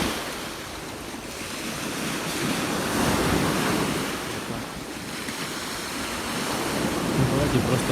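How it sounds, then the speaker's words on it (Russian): Stormy Sea of Azov waves after a night storm: a loud, continuous roar of surf swelling and easing in slow surges, mixed with gusty wind buffeting the microphone, with no clear speech. "Море штормит, ночью был шторм."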